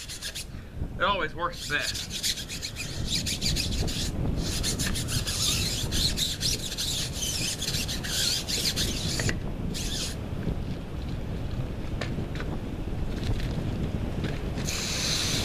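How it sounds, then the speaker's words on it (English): Tires on a Ford Fusion being scrubbed with Mean Green cleaner, steady brisk rubbing and rasping that runs continuously and close, outdoors in wind. "washing the crud off the tires using some Mean Green"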